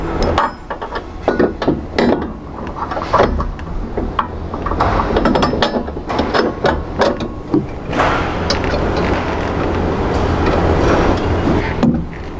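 Wrenching work on an AGCO Dynaflex header while removing a bolt: close, repeated metallic clanks, scrapes and ratcheting knocks in a busy, irregular rhythm, loud throughout with no talking.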